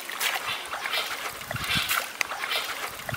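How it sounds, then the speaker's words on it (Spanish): Water splashes and trickles at a stream in the Venezuelan llanos near Caño Negro, where a man scoops water to drink; irregular close splashing and dribbling with some rustle, no voices. "Allí aparta a la espuma viajera y toma agua para calmar la sed."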